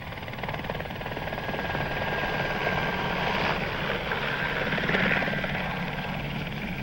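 A helicopter flies overhead with a steady, loud rotor and engine roar that swells slightly near the end, with no talk over it.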